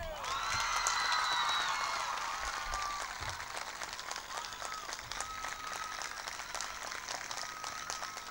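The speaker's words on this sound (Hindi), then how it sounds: "ये ताली सब तो लंबी ताली था बजी हुई।" An audience at an event announcing scholarships for female college students breaks into long, loud applause. The clapping swells early, then holds at a steady, slightly lower level, with a few voices mixed in.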